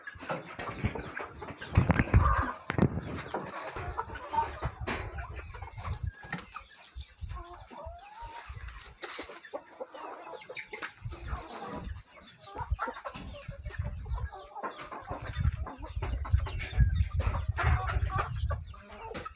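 Hens on a small poultry farm cluck and murmur in scattered bursts, close and fairly quiet, with occasional wing flaps and shuffling throughout.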